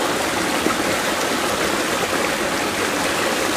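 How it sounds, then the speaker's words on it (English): A waterfall rushes in a steady, dense roar outdoors, close and loud, with no break or voice over the full stretch. "we're gonna move it away from the waterfall"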